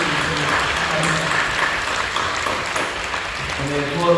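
A church congregation at a Korean worship service claps in sustained applause, with a voice speaking over the clapping and a brief tonal sound near the end.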